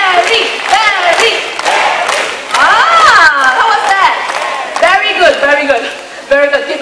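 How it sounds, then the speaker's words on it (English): A crowd of spectators at a bird show at Jurong Bird Park, Singapore, claps and shouts a green-winged macaw's name in loud, overlapping bursts of cheering voices that rise and fall throughout. "I need you to clap your hands and shout his name."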